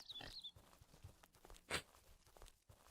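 Pigs on a farm in an indie horror game, faint snorts and grunts scattered among footsteps and small rustles, with one sharper squeal-like burst midway, quiet and close.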